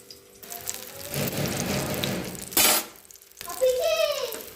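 Neem leaves and eggplant frying in a pan for nim begun bhaja, a steady close sizzle broken by a brief louder burst and then a stirring clatter.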